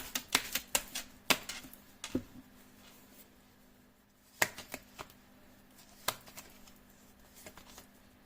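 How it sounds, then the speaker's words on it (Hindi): Tarot cards being shuffled by hand: crisp riffling bursts and sharp flicks in irregular clusters, near and fairly quiet, with calmer gaps between flurries and no talking. "मैं कर लेती हूँ कार्ड की शफलिंग।"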